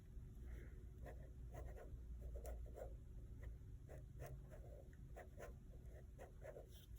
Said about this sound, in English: you're drawing that other foot behind